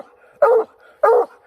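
A coonhound baying at a raccoon treed up a poplar tree on a hunt from a boat: two loud, close barks about half a second apart, with quiet between them.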